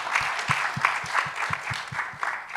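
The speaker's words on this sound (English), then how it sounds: "Please give yourself a round of applause." A small audience claps for panelists at a legal discussion event, with distinct, fairly regular claps, moderately loud and close, and no talking over them.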